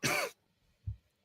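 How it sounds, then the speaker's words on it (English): A single cough, close and fairly loud, with a broadband burst followed by a softer low thump and a brief final burst; no one speaks. "I'm just going to have a cough and mute myself here."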